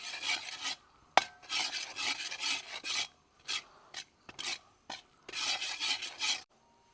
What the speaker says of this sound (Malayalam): നമ്മുടെ കാശ്മീരി മുളക് പൊടി ഇട്ട് കൊടുക്കാം നന്നായിട്ട് ഇളക്കി കൊടുക്കാം